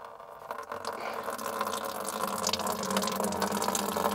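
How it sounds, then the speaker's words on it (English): Dirty coolant from a Jeep radiator drains out in a steady, continuous rush of pouring liquid, loud and close, with no talk over it. "We're currently draining everything out."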